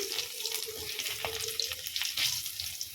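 Cumin seeds and three cloves of chopped garlic sizzle in hot oil in a pan just emptied of fried eel, a steady close crackling hiss with small pops and faint clatter, no voices.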